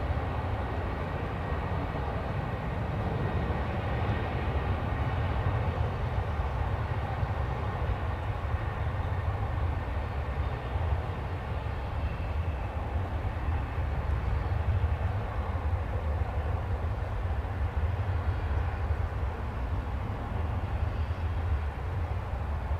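An American Airlines jet rolling on the runway at DFW Airport, a steady broadband engine roar with low rumble that holds at constant loudness throughout, no voices.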